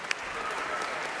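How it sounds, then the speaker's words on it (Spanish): Concert audience applause after a performance by an orchestra, brief steady clapping that is fairly loud and continuous. "Pollo, un aplauso para el Pollo"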